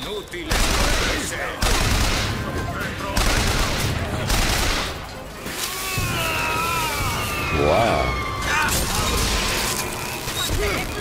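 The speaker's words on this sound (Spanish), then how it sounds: "¿Pero qué estáis disparando aquí?" Gunfire in BioShock Infinite erupts in repeated loud bursts and volleys with mechanical clanks and crashes between them, while someone talks over the shooting.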